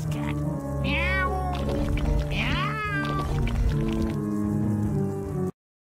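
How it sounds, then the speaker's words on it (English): A cat meows twice in American McGee's Grimm, two drawn-out, rising-then-falling cries over a steady game music and ambience bed, close and clear. "Wonder where I can get a nice cat. Meow."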